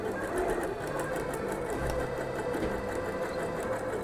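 A sewing machine runs steadily, stitching a fabric seam for a dress, with a continuous rapid mechanical whir and needle patter close by.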